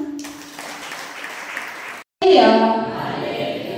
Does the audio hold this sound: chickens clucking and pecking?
no